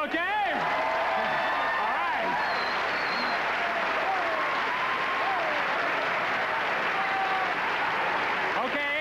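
Studio audience applause on a late-night television talk show, a dense, steady roar of many hands clapping that stays loud and even for about nine seconds, with faint whoops and vocal sounds mixed in.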